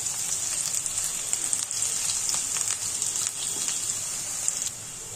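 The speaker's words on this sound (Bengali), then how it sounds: "নেড়ে চেড়ে পেঁয়াজ রসুন আমি একটু হালকা গোল্ডেন কালার হওয়া পর্যন্ত ভেজে নিচ্ছি" Chopped onion and garlic fry in a pan toward a light golden colour, a steady close sizzle with faint crackles and occasional light stirring throughout.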